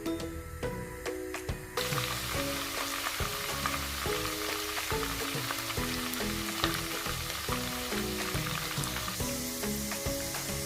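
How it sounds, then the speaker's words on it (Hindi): Onions and cumin seeds browning in a pan for a Pakistani khandviaan recipe, a steady close sizzle with irregular crackles and occasional stirring scrapes, continuous for around ten seconds with no talking. "और हमने इसमें ये जो प्याज है इसको ब्राउन करना है, और इसके अंदर जो जीरा है उसको भी अच्छे से फ्राई करना है।"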